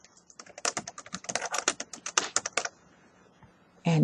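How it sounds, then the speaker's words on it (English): Computer keyboard keys clatter in a quick, uneven burst of close clicks for about two seconds, then stop before a short sound at the end. "You can type here."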